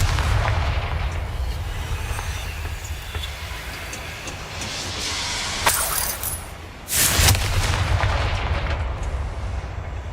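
A Confringo blasting spell goes off in Hogwarts Legacy, two sharp explosive bursts cutting through a dense rumbling game soundscape, loud and close, with no voice over them.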